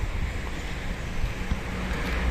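Steady wind rushing past an outdoor bulldog enclosure, a continuous broadband whoosh with gentle gusts and no voices.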